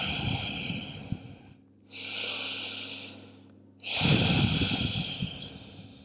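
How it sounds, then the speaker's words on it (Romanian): Slow nasal breathing during a yoga relaxation pose, with a long inhale and exhale through the nose followed by another breath, close and clear with no talking. "Inspir și expir pe nas."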